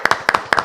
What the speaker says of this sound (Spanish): Bien, un aplauso.